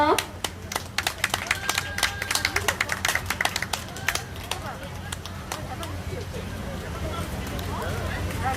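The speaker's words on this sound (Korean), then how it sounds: "큰 박수 보내주세요" A crowd at a neighborhood residents' assembly in Korea applauds with quick, scattered clapping that is strongest early on and gradually thins out, leaving a murmur of background noise.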